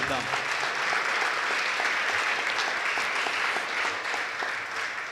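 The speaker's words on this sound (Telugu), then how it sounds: "మనమందరం ఒక్కసారిగా గట్టిగా చప్పట్లు కొట్టి దేవునికి కృతజ్ఞత తెలియజేద్దాం" A church congregation at an inaugural mass breaks into sustained applause, many hands clapping in a dense, even roar that fills the space from start to finish and tapers slightly at the end.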